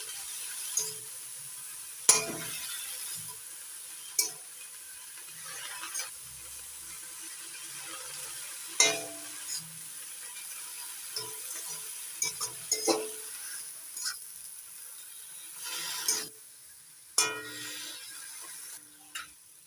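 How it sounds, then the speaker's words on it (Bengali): Salted gourd leaves are stirred in a pan: sparse scrapes and metallic taps from a spoon come at irregular intervals over a soft, constant background hiss. "এবার দিয়ে দিচ্ছি স্বাদ মতো লবণ এবার নাড়াচাড়া করে দিচ্ছি"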